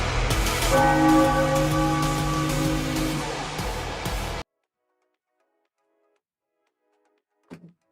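A bell is rung as a test, giving a loud, sustained ringing tone with lingering overtones for about four seconds before cutting to near silence, with a brief faint knock near the end.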